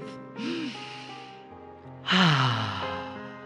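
A slow, deep breath drawn in and released during a guided meditation session, soft and close, with a gentle sustained tone of background music underneath.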